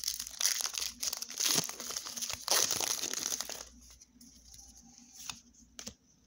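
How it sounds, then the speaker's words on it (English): A Pokemon TCG booster pack wrapper being torn open and crinkled, loud crackly foil rustling close up for a few seconds, then quieter handling and a couple of brief crinkles. "Let's open another pack."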